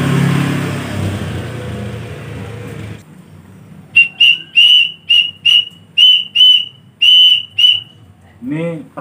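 An angkrik-type sawangan kite whistle set to blend two tones into one sound gives about a dozen shrill, steady whistle bursts in an even pulsing rhythm, loud and close, after a few seconds of rushing wind noise.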